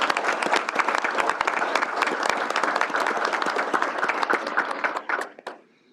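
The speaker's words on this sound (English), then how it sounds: "let's give a round of applause, please," Applause from the audience at a university Board of Regents meeting honors the student regents, a dense, steady burst of many hands clapping up close before it tapers off and stops near the end.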